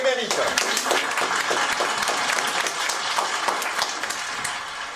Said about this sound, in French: On les applaudit encore, ils le méritent